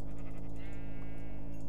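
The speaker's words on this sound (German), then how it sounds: "das ist ein Schaf" A sheep bleats in the Minecraft video game, a steady nasal in-game call lasting over a second above a constant low background hum, with no talking over it.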